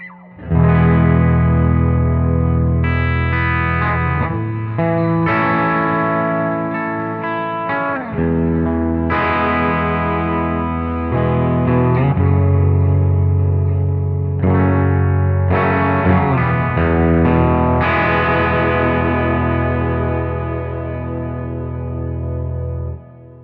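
An electric guitar runs through the Fine Classics Vintage Vibe amp simulator on its Under the Sea preset, letting sustained chords ring out into long reverb tails and big delay repeats that swell and wash over one another, loud and with no voices.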